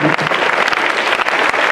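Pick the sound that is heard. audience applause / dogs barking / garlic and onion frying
audience applause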